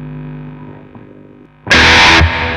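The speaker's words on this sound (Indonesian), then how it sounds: "Kalau kita tambah distorsi, distorsi apa ya" A quiet, fading clean guitar tone gives way to one loud, heavily distorted chord struck through a Line 6 POD HD500X multi-effects unit. The chord roars for about half a second and then rings on more softly.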